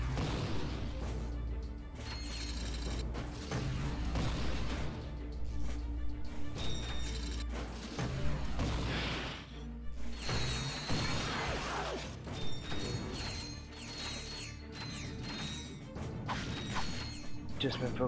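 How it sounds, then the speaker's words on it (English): Crates are smashed for bolts in Ratchet & Clank: Going Commando on PlayStation 3, giving repeated loud cracking bursts and clattering mechanical pickup sounds over game music, with a voice talking now and then. "Much more rewarding to smash these things for the bolts."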